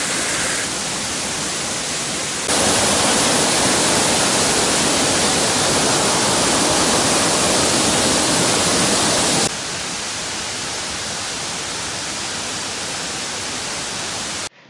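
Ong Dong waterfall in Binh Phuoc roars as a loud, steady, dense rush of falling water that grows louder for several seconds in the middle, with no voices.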